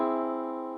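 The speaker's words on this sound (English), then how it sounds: "and the augmented triad," An augmented triad rings out as a single held chord, fairly soft and steady, fading slightly across its brief duration with no voice present.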